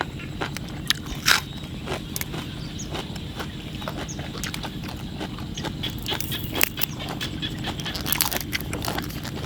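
Crisp, crunchy chewing of squid tentacles with irregular snapping bites and scraping, close to the ear, continuing steadily throughout.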